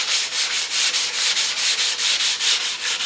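Hand sanding scrapes paint on the fender of a 1933 Ford Coupe, a close, even run of about a dozen rhythmic back-and-forth strokes, with no voices.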